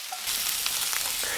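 Halved Brussels sprouts for a Kung Pao side dish sizzle loudly as they are tossed in a hot pan. A brief quieter moment gives way to a strong, crackling fry with scraping stir sounds.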